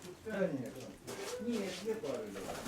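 Pigeons coo in a loft, soft low murmuring under close, ongoing conversation between people.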